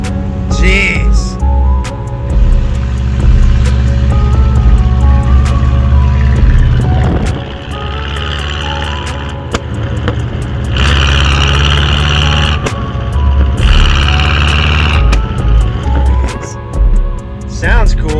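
A Chevrolet El Camino fitted with a new exhaust idles loudly and close by, with a deep, steady rumble that surges at moments. Voices are heard over it.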